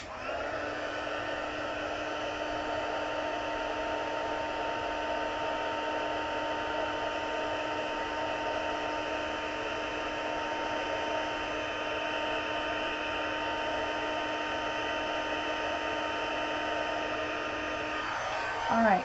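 A hair dryer blows steadily on a stamped sunflower card painted in watercolor, a loud, continuous whir lasting throughout before cutting off at the end.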